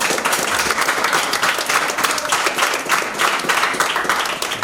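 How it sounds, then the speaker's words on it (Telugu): Sustained, loud applause from a gathered crowd at a retirement function, dense and even claps continuing without a break from start to finish. "క్లాప్స్."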